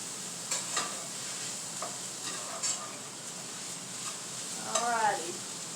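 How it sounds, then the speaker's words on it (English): Onions cooking in a pan for a loaded baked potato, a soft continuous sizzle with scattered light pops and a brief scraping stir near the end, no talking. "those onions smell good cooking"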